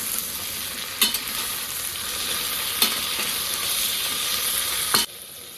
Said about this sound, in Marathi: तर सगळे मिनिटभर छान असं परतून घ्यायचं आपल्याला हलवायचं